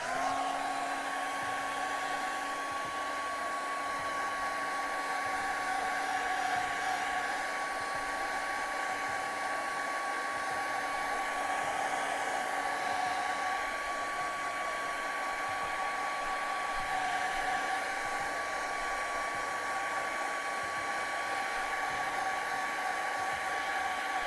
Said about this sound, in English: let's just give it a little bit of a hair dry right now.